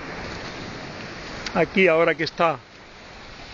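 Waves at Playa del Saler beach near Valencia give a steady wash of surf and wind noise throughout, and someone speaks briefly over it in the middle.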